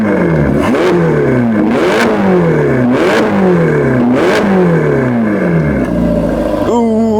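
Ferrari Portofino V8 engine revving in short repeated blips, each rising and falling in pitch at a steady rhythm, loud and close, ending in a sharper climbing rev.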